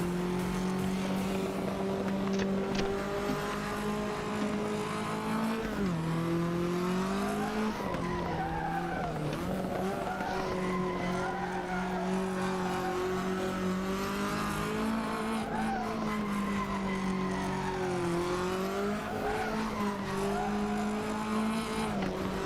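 A car drifting in a racing video game, with a continuous loud tire squeal and revving engine that wavers in pitch as the drift shifts and the counter-steer changes, sustained throughout without pause.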